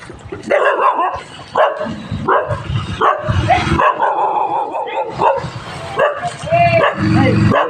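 Street dogs bark loudly and close by in repeated bursts, with yips and whimpering between the barks throughout.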